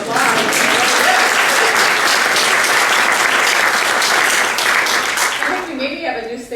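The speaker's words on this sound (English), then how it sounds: "I think another round of applause." Sustained applause from the audience at a nursing white coat ceremony, dense and loud clapping with cheering voices that holds steady for several seconds before tapering off at the end.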